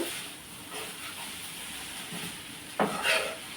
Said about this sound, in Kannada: ಶೇಂಗಾ ಹಾಕಿ ಒಗ್ಗರಣೆ ಕೊಡ್ತಾ ಇದ್ದೀನಿ ನೋಡಿ